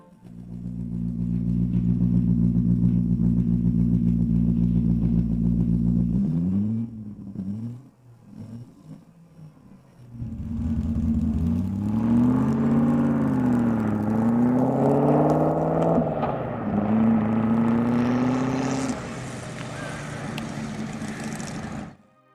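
A homemade 392 cc V8 in the Franz Flyer motorcycle idles with a steady deep rumble, drops away briefly, then revs up and down in several rising and falling sweeps before settling, loud and close with no talk.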